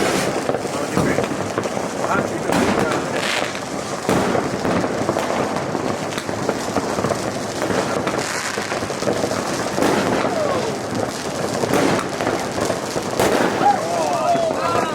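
Fireworks bursting at a celebration in Nuremberg, a steady barrage of pops and crackling blasts running continuously with crowd voices mixed underneath.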